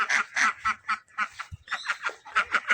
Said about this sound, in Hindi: और ये देखें डक ने बच्चा निकाला हुआ है।